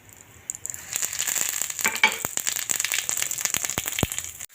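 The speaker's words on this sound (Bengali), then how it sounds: "এখন ওই তেলেই আমি দিয়ে দেব গোটা জিরে ফোড়ন আর এই দুটো তেজপাতা।" Whole cumin seeds and two bay leaves sizzle in hot oil left from frying catla fish, a steady bright crackle with scattered sharp pops and clicks, close and continuous throughout.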